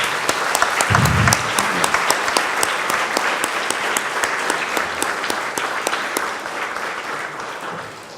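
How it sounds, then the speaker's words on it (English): Wedding guests break into loud, sustained applause during the reception speeches, a thick, even roar of many hands clapping that slowly thins out toward the end, with no talking over it. "please give a huge round of applause to my amazing dad and mom?"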